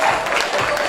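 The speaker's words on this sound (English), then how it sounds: "A wee round of applause for Paul there" A crowd applauds a model on a kilt catwalk at a Highland fashion show, a loud, dense, continuous patter of clapping.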